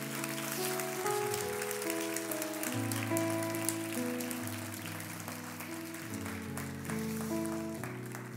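Continuous applause from a church youth congregation during a baptism welcome, soft and even, with held keyboard chords playing underneath.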